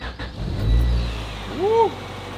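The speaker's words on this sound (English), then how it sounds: "now let's start the car so you guys can hear it turn on" A Honda Civic with an aftermarket Thermal exhaust starts up outdoors: a low engine rumble rises as it catches and briefly revs, with a rising whistle-like tone near the end, heard at close range.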